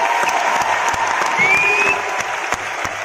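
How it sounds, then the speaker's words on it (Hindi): Steady applause from an audience at an indoor business success-day event, dense clapping with crowd noise throughout and a few sharper claps near the end. "मैं एक बार जोरदार तालियां चाहती हूँ"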